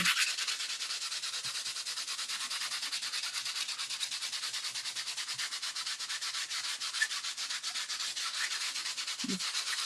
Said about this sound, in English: let's see what it looks like if we sand it a bit